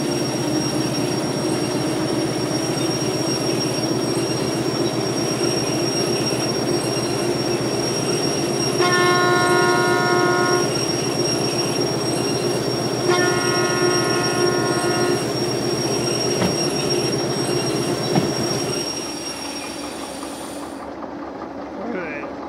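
A train rolls steadily through the Derail Valley Simulator video game, its continuous low mechanical rumble heard with intermittent tonal squeals from the wheels and a brief clank, fading toward the end.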